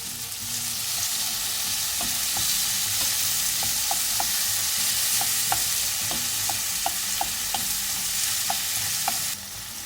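Tomatoes hiss and sizzle in a frying pan for totsong bangus, a steady frying crackle with repeated light taps and scrapes from stirring, fairly close and with no voices.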